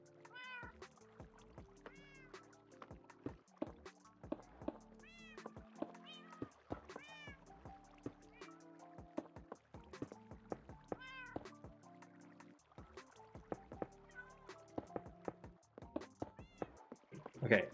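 Cats meow repeatedly in the Minecraft video game, short rising-and-falling calls scattered throughout at moderate volume, with someone talking quietly underneath.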